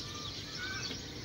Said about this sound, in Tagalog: Ang huni ng ibon ay talagang nakaka-relax